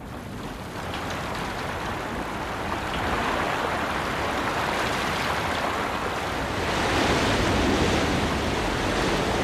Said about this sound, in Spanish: Los cauces, que no habían sentido la caricia del agua durante meses ni años, se convierten en violentas riadas.